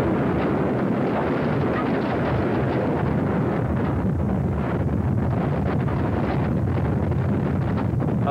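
A 1974 tornado in Guin, Alabama roars as continuous, dense broadband wind, harsh and buffeting against the microphone, with crashing debris and cracking trees blended into the steady rush and no voices.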